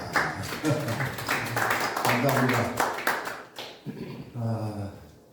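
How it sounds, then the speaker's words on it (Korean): A church congregation at a Korean Christian alumni worship service claps steadily in applause for the pastor, a dense patter of hands over several seconds that fades near the end, with some speech mixed in. "오늘 말씀 잘 전해주신 최명진 목사님 축복 박수 감사합니다"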